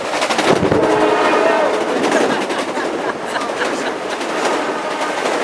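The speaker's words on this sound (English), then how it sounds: "And just before I get hit by train." A train passes close by, loud rumbling with rhythmic clatter of wheels on rails and a sustained horn-like tone riding over it, holding steady for several seconds.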